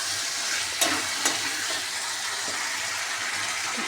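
Spice-bowl rinse water poured into potatoes frying in a pan for a paneer potol alur curry, steady close sizzle with a couple of sharp spits and stirring.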